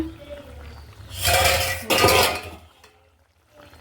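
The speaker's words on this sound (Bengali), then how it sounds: "চলো এবার ঢাকাটা খুলে দেখা যাক কেমন হয়েছে।" A lid lifts off a cooking pot of simmering eggs with a brief clink of metal, followed by a short, close burst of bubbling and hissing steam that fades quickly.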